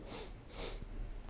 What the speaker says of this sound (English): Another sniff through the nose.